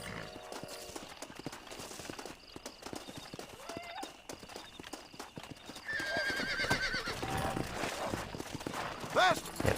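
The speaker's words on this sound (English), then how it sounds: "Get out of the way, horse." A horse in the Red Dead Redemption video game clip-clops along at a steady gait and whinnies near the end, with game ambience and occasional voices over the hoofbeats.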